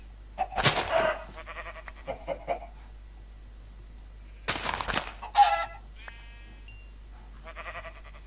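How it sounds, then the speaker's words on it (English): Minecraft chickens clucking and bleating in a few short bursts, fairly close, over quiet game ambience with no talk. "Chickens."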